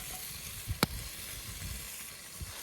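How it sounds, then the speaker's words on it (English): A steady close sizzle of potatoes frying in a hot cast iron pan over a campfire, with a sharp clank of utensil against metal early on. "Pan's nice and hot, so it's a bit of a sizzle."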